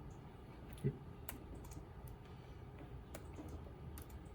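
A single key press on a computer keyboard, the E key struck once as a shortcut, a soft click close by against a quiet room hum.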